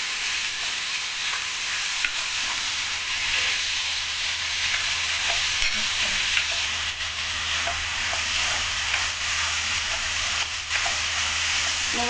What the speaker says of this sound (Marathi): मुगाच्या डाळीला तेलामध्ये छान असं फ्राय करून घ्यायचं आहे 2 मिनिट।